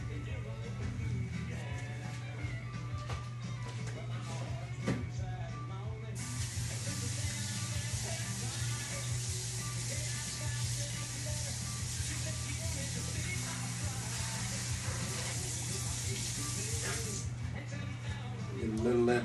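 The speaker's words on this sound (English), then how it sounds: "I'm going to have to take my pork liver over to the sink real quick and rinse them off." Tap water runs into a kitchen sink while pork liver is rinsed for boudin, a steady close hiss that grows brighter and stronger midway under a low hum, with a voice talking over it.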